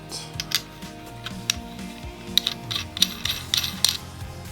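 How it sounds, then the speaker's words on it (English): A Korbanth Obi-Wan Kenobi Episode I & II lightsaber hilt gives a run of small, sharp, close clicks and taps from its switch, several in quick succession, over faint background noise. "I have glued this guy to the switch and just popped him in. So it's quite a satisfying click."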